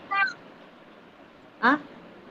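A cat gives two short meows, one at the start and one after a pause, each brief and fairly close against a quiet background.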